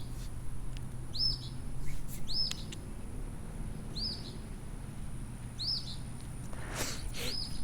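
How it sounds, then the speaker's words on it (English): A small bird gives short, high chirps at regular intervals, about five in all, fairly distant over steady low background noise. "Oh, do you hear that bird?"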